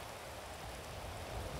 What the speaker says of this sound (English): I feel like the rain is still coming through.